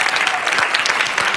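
An audience at a TEDx talk event claps in a dense, continuous burst of applause, loud and close, with no distinct voices rising above it.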